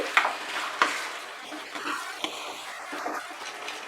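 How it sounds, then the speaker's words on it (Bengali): Mutton being mixed by spoon with salt, sugar and black pepper powder in a pan for Bengali kosha mangsho, with close scraping strokes, a couple of sharp knocks against the pot and light sizzling throughout, no voices. "মশলার সঙ্গে ভালো করে মিশিয়ে নিচ্ছি।"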